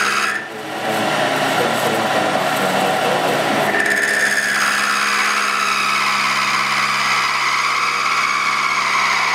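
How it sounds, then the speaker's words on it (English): A fly cutter slowly machines a hard, welded exhaust manifold from a CAT 3408 turbo diesel, giving a continuous close rasping, grinding cut with a steady whine and no talk. "Just trying to flatten this guy out here with the fly cutter."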